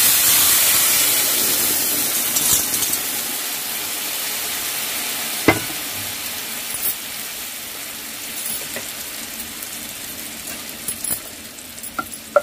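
Marinated okra hisses loudly as it goes into a hot pan, then settles into steady frying sizzle, with occasional clacks and scrapes from stirring and no voices.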